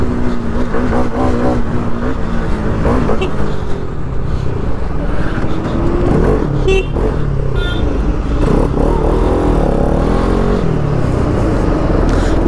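Bajaj Pulsar NS 200 motorcycle engine revving while riding, a loud continuous droning growl with rising and falling throttle surges, mixed with wind rush and faint talk.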